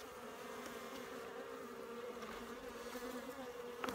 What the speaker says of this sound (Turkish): Şöyle arılar burada balını alıyor.